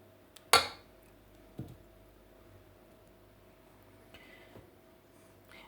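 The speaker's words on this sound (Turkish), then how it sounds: "Şimdi alt katına şöyle birer kaşık ekliyorum." A spoon scrapes and clinks against a pot or dish while semolina milk pudding is spooned into a dish layer, one sharp knock followed by a softer tap and a few faint clicks in a quiet room.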